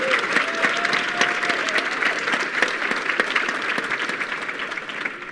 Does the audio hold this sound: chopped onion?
no